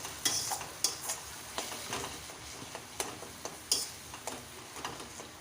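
A spoon scrapes and knocks in a pan as tangra fish masala is stirred into gravy, giving sharp intermittent clinks over a soft, steady sizzle, with no voices.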